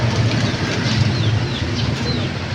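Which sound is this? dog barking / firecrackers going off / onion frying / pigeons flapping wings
pigeons flapping wings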